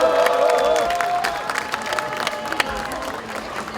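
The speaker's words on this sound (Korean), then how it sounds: "힘찬 박수로 모시겠습니다." Crowd at a Gwangju candlelight rally against the intelligence agency clapping and cheering, a dense, fairly loud burst that tapers off while a voice carries over it.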